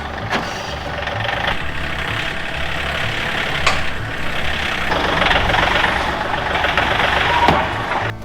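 A V8 engine with big cylinders idles firing all eight, a steady low rumble heard up close outdoors in cold weather, with a faint beeping in the background.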